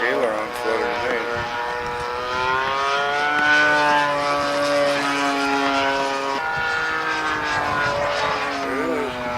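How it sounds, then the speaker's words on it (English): Propeller-driven airplane in flight with a suspected aileron flutter, its steady engine drone carrying sweeping harmonic tones that rise and fall across the clip, loud and continuous with voices talking over it. "Sound like aileron flutter to me."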